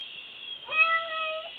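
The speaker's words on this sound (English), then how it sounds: "That's the cat." A cat gives a single clear, drawn-out meow while being bathed, close and alone against a faint background hiss.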